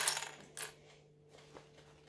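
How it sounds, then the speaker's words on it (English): Sewing clips snapping onto fabric and a zipper panel for a bag, a few sharp metallic clicks close by, the loudest at the start and then softer, no talking. "But I am going to clip all of it."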